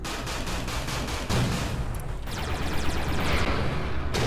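A spacecraft fires missiles in Everspace 2, a rapid stream of punchy launch bursts, with a heavier whooshing thump midway and more pulsed firing after it, loud and close with no voices.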